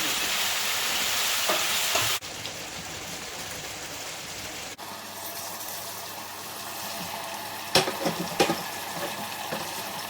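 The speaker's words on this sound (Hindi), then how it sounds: "फाइनली चिकन की ग्रेवी बना रहे हैं हम, तय वाली बिरयानी बनाएंगे। चिकन हमने जो मसाला बनाया था उसके अंदर डाल दिया।" Chicken frying in masala for a biryani gravy: a steady hiss and sizzle from the pan, with a few louder scrapes or stirs near the end and no talking.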